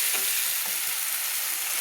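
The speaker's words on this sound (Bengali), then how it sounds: "চিংড়ি মাছগুলোকে মশলার সঙ্গে একটু কষিয়ে নিলাম।" Prawns frying with spices in a pan for a Bengali aubergine and prawn curry, giving a steady broadband sizzle throughout with a few soft stirring scrapes, close and continuous, with no talking.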